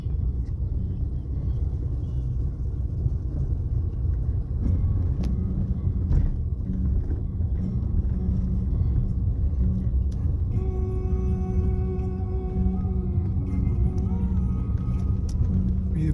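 A car creeping carefully along a road covered in snow, heard from inside as a steady, close low rumble of engine and tyres that never lets up, with a faint tonal hum joining in partway through.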